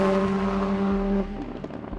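A Courage C65 LMP2 prototype race car, run at Le Mans, gives a loud, steady engine drone that drops off and settles into a lower, rougher rumble partway through.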